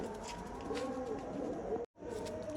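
Domestic pigeons, young birds of a racing bloodline, coo steadily in low throaty tones throughout, close by, with a brief break near the end before the cooing resumes.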